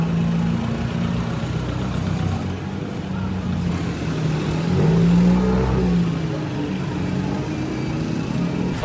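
A jeepney ride in Angeles, Philippines brings a continuous engine drone with a low rumbling hum that swells briefly as it revs mid-ride, steady road noise and faint background voices.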